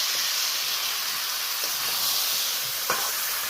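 Potatoes and a fish head frying in spice paste sizzle steadily in a pan, a dense, continuous hiss close by with a few faint clinks, no talk.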